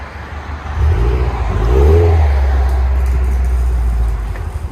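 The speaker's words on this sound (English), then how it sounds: "Subaru BRZ with a PERRIN system." A 2020 Subaru BRZ 2.0L with a PERRIN dual cat-back exhaust revs close by, a low burbling note rising to a swelling peak and then settling into a steady drone.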